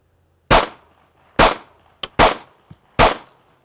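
A handgun fires five sharp, loud shots at a steady practice pace, each crack ringing briefly before the next, with a small metallic click between two of them and no speech.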